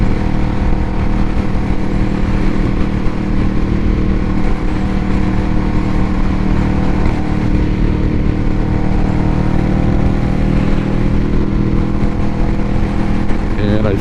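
Kawasaki Vulcan S motorcycle on an evening ride, a steady loud engine drone mixed with heavy wind rush that stays constant throughout, with voices faintly under it.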